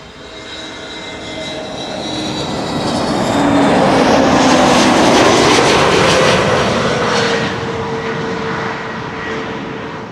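Aircraft CS-TVC, seven years old, passes at Amsterdam Schiphol Airport, a loud engine roar building to a peak midway with a shifting whine and fading again, alone without talk.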